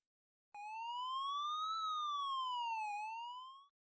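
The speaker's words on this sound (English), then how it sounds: "Sirens wailed in the distance." A lone electronic siren wails, its tone sliding up, dipping, then rising again for about three seconds before cutting off, otherwise silent.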